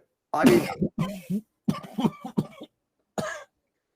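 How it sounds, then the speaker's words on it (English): Several harsh coughs in quick bursts, close and loud, with short pauses between the fits. "Coughing too hard, dude."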